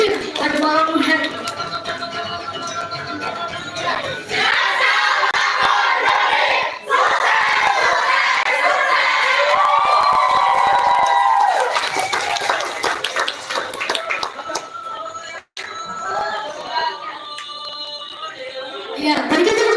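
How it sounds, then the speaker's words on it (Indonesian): Audience at a theatre performance applauding and cheering for the actors: dense sustained clapping mixed with shouts and crowd voices, loud and close, with a few brief dips and a short break near the end. "Berikan tepuk tangan sekali lagi untuk seluruh aktor mengentaskan naskah lakon Demi pada malam hari"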